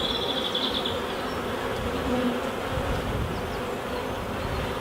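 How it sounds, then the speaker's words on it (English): Steady, dense buzzing of many jittery honey bees on a comb close by, a continuous droning hum with no pauses and no voices. "These bees are a little bit jittery on the comb."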